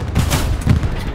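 Rapid, loud gunfire bursts in quick succession, a close burst of shooting in the video game Hell Let Loose at Carentan, with heavy booming shots.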